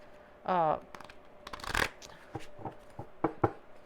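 Oracle cards being shuffled by hand in a quiet room, with a brief riffling burst early, then a scattered series of soft taps and card slaps.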